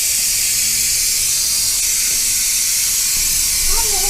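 Steam rushes steadily out of a pressure cooker holding pumpkin and gnocchi as the pressure drops, a loud, close, unbroken hiss from start to finish, with faint background sounds near the end.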